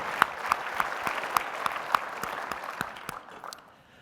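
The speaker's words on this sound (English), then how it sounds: "let's give Gary a round of applause" Applause from a crowd, steady clapping with a few sharper claps standing out, gradually fading toward the end.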